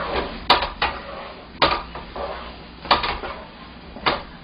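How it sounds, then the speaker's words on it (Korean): Sweet potato pieces tossed into syrup in a pan, giving a handful of separate clinks and scrapes of utensil against the pan, spaced about a second apart, fairly close and alone with no talk. "자, 고구마 넣고도 재빠르게 섞어줍니다."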